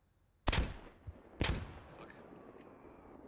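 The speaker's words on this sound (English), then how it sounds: "Two more frags coming in." Grenade explosions in the video game SquadOps, two sharp, booming blasts about a second apart followed by a rumbling tail, moderately distant.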